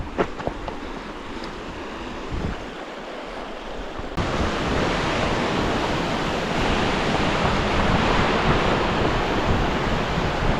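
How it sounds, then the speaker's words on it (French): Mountain torrent, the Gita stream in the Alps, rushing loudly and steadily. The broad roar grows stronger and more enveloping partway through, with wind buffeting the microphone. "Le voilà, le torrent de la Gita qui vient de..."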